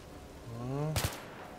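Gunfire in Battlefield 3 co-op: a rising voice-like tone gives way to two or three sharp, loud shots in quick succession, followed by quiet.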